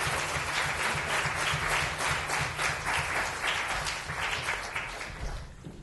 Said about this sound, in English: please give a round of applause for Briece, Kelsey, and Mark